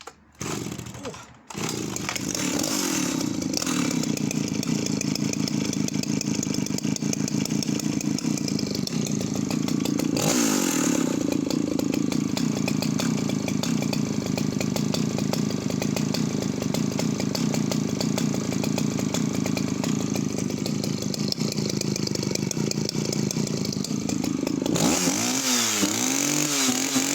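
A vintage chainsaw starts with a few pulls and catches, then settles into a loud, steady buzzing idle with slight revs, close to the microphone, before cutting off near the end.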